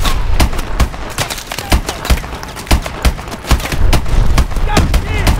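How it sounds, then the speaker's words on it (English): Rapid gunfire and sharp blasts in the video game Call of Duty: Advanced Warfare, dense irregular bursts of loud, close reports layered over a rumbling background with speech mixed in. "What the hell was that? Pressure explosions."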